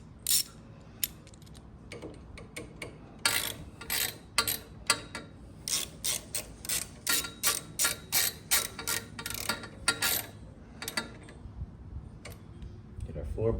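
Ratchet clicking in repeated rapid bursts as motorcycle exhaust mounts are tightened, close and fairly loud, with short pauses between strokes and a low background hum.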